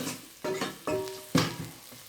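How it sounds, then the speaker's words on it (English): Curry with coconut milk being stirred in a rice cooker, giving three soft scraping strokes spaced evenly apart, close and quiet, with no voices. "we keep stirring it"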